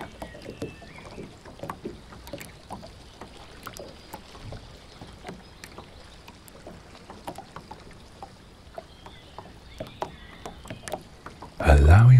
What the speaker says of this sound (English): listening to the soft lap of the water against the sides of the boat